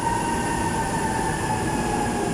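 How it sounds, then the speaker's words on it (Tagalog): MRT metro train at a station in Manila, Philippines: a loud, continuous rumble with steady whining tones from the running train, no voices. "Andito tayo guys sa may MRT."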